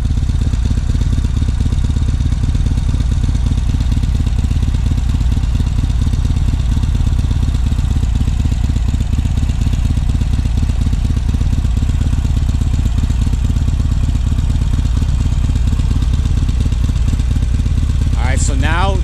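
Motorcycle engine running steadily throughout during a beginner riding lesson, a continuous low rumble close by with talk over it.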